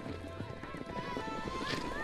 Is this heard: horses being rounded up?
yes